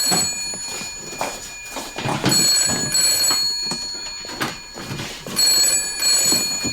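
An old-style telephone bell rings in repeated bursts with brief gaps between, loud and close indoors, while people move about and talk over it.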